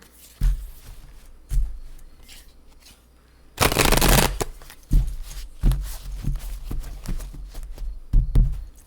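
Tarot cards are shuffled in short riffling bursts and taps, with one longer, louder riffle in the middle, close up and without talk.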